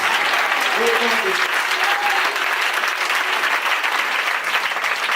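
Congregation applauding at a deliverance prayer service in a French-speaking church, steady dense clapping throughout with voices mixed in underneath.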